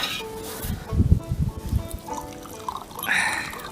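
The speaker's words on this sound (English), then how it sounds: "I'm going to pour myself a cup of tea" Tea poured into a cup, a trickling liquid splash with a brief run of dripping and filling sounds, fairly close and moderately loud, ending in a hiss of higher noise.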